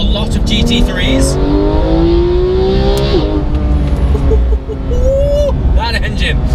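A Porsche GT3 RS engine on a beach revs hard and climbs steadily in pitch, dips briefly, then surges again, loud and close, with a person talking over it throughout.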